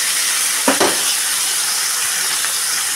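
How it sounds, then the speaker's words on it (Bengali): Small chuno fish frying crisp in hot oil in a wok, giving a dense steady sizzle and hiss close by with a couple of brief stirring scrapes. "একবারে ভাজা হবে আর বেশ মচমচে করে আমি ভালো করে ভেজে দেবো মাছগুলোকে।"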